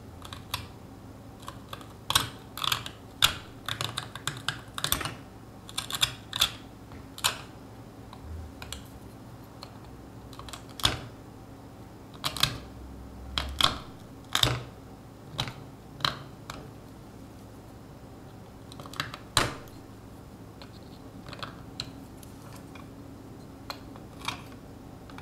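Scattered sharp clicks and scrapes as a stone seal is worked by hand, with gritty sand in the stone, irregular and fairly faint over a quiet room hum.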